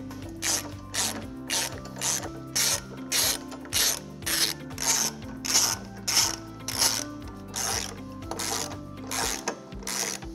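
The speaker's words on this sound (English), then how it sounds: "What we're going to do is start out with a ratchet just to get all the threads going," A ratchet tightening trailer hitch bolts on a 2019-2025 Subaru Ascent, giving repeated bursts of loud, close clicking in a steady back-and-forth rhythm.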